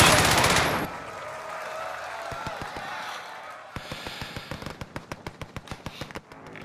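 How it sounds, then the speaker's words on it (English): Gunfire in a multiplayer battle royale video game's final circle: a single burst, then a quiet stretch, then a rapid, evenly spaced string of sharp shots, moderately loud over a faint background. "I heard gunshots around there."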